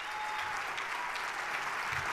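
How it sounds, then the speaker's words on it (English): A crowd applauds Palestinian refugees, a steady wash of clapping that stays even and fairly loud throughout, with no speech on top. "Refugees deserve your applaud."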